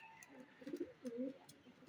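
A few soft, low coos from doves kept in a pigeon loft, faint and close, spaced irregularly over a quiet background.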